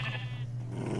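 Angry wolves in Minecraft growl and snarl in short, close bursts over a low steady hum, with no talking.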